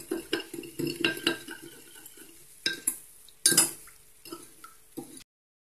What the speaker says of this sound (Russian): Все это хорошо размешиваем, чтобы сахар растворился